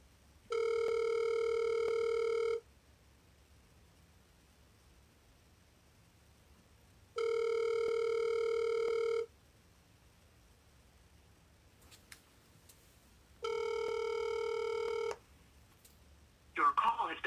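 A phone call rings out on a telephone, giving three loud, steady ringback tones of about two seconds each, spaced evenly apart, with quiet gaps between and a brief rustle at the end.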